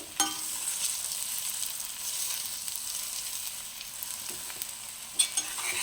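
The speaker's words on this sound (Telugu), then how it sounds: "ఇలా చిన్నగా కదుపుతూ ఉండాలండి మనం ఎక్కువగా కలపొద్దు చిన్నగా స్లోగా ఇలా కలుపుతూ ఉండాలి" Masala-coated amaranth leaves and chicken liver fry gently stirred in a hot pan, a steady close sizzle with soft scraping strokes and a few sharper clinks of the spoon against the pan.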